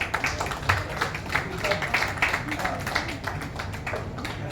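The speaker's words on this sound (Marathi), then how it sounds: "प्लीज एकदा जोरदार टाळ्या होऊन जाऊ द्या मोहन सरांसाठी" Audience applause greets guests at a Marathi film teaser launch, a steady patter of clapping with a host's voice calling over it.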